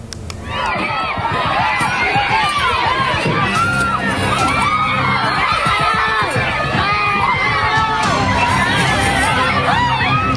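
A large crowd of angry residents shouts and screams in panic while a driver is pulled from a car cabin after an aftershock in NTT, Indonesia. The roar of many overlapping voices is loud and continuous.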